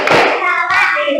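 Schoolchildren in a third-grade classroom do the 'tepuk pulang' clapping routine while standing, with loud, quick hand claps in short bursts, and young voices are mixed in over them.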